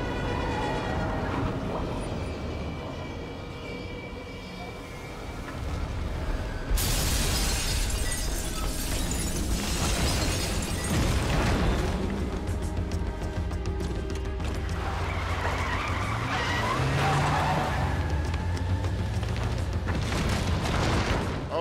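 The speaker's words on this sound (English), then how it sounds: "Explosions." Loud, dense explosions and collapsing buildings in the horror video game The Evil Within, a continuous roaring barrage of booms and crashing debris that swells after a few seconds and keeps rumbling throughout.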